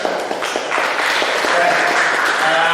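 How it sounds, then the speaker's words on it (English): Audience applause after speakers at an academic talk on religion and ecology, a steady dense patter of hand claps filling the room at close range, swelling slightly toward the end. "let us give applause again to our speakers."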